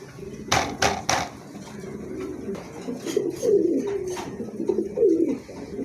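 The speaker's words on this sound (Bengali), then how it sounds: "চমৎকার একজোড়া কবুতর আছে" A pair of red-eyed pigeons coo in low, rolling, repeated phrases, close and clear, with a few sharp knocking taps near the start and no speech.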